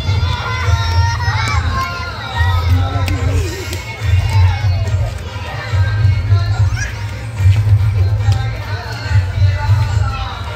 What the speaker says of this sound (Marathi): आणि इथे चाललंय जल्लोष चाललाय पब्लिकचा